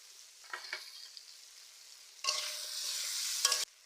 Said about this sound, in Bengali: চিংড়ি, তার একসাথে আমি ভেজে রাখা পেঁয়াজ দিয়ে দিচ্ছি